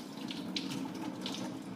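Running water from a tap streams steadily over soaked sticky rice being rinsed for Thai-style cooking, a constant close splashing hiss with no talk.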